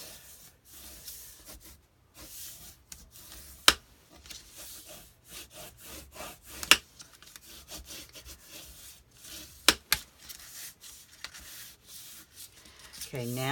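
Paper is folded and pressed down by hand, producing quiet scattered rubbing and scraping strokes with a few sharp creasing clicks and near silence between them.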